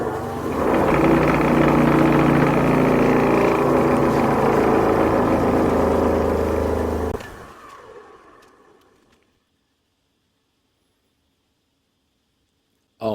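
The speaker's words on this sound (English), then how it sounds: "In the time it takes for this disc sander to spin down and stop" A homemade wooden 20-inch disc sander, a loud steady whirring motor hum that suddenly drops off, then fades away gradually as the disc spins down into silence.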